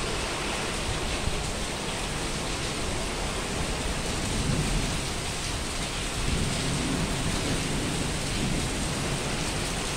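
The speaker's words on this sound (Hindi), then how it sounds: "देखो पानी बारिश हो रही है ना, बारिश हो रही है मेरे बच्चे" Heavy rain pours down steadily across the full span, a dense, loud wash of drops drumming on surfaces with low thunder rumbling beneath, no speech present.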